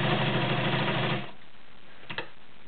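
A White Model 618B sewing machine with a size 18 needle stitching through eight layers of cotton, a fast steady mechanical chatter for over a second that stops abruptly, followed by a faint click.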